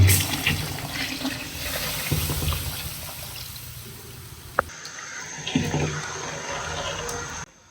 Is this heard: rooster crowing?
no